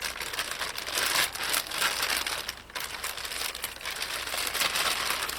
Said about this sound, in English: could you pull that plastic off, please?